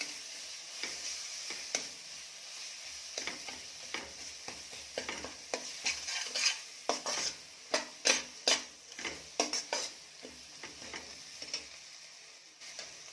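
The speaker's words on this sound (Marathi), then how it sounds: "यामध्ये टाकायची आहे आलं लसूण पेस्ट ही पण छान परतून घ्यायची आहे" Ginger garlic paste sautés in a pan for Kolhapuri mutton, a soft sizzle under a series of sharp spatula clicks and scrapes that grow louder and more frequent midway, then ease off.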